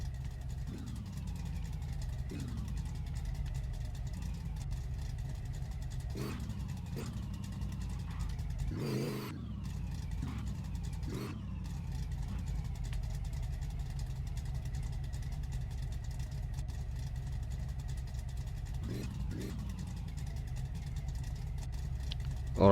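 A Pontiac Firebird's engine running steadily at a low idle, a constant mid-level rumble with occasional brief knocks and clicks scattered throughout and one short louder burst near the middle.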